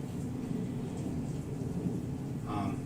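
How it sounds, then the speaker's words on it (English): Low, continuous thunder rumbles through a rainstorm at an outdoor campsite, a deep steady roll with a hiss of rain on top, distant rather than sharp. "You hear the thunder."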